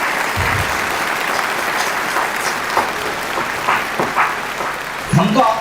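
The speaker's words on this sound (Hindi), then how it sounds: "जोरदार तालियों के साथ स्वागत करेंगे" Applause from a Hindu community gathering in Khampur village, New Delhi, welcoming a religious leader: steady crowd clapping through the whole stretch, with a voice cutting in near the end.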